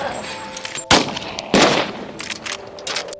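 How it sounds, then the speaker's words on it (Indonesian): Two loud, sharp gunshots ring out close together at zombies in the 2017 film Cargo, each ending in a short rumbling decay, over a restless background of film sound. "Dia menyuruh Andy untuk menembak zombie-zombie tersebut"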